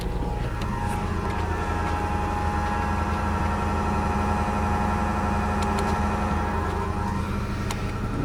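A newly fitted fuel pump in a Mitsubishi Magna runs with a steady high whine, heard close and continuous over a low engine-like drone.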